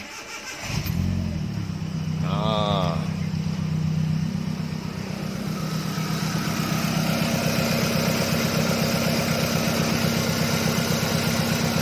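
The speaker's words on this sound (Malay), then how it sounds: "Sekarang kita coba hidupkan engine." A Proton Campro car engine, just back from a valve lifter service, cranks briefly, catches and then settles into a steady, loud idle that runs on alone.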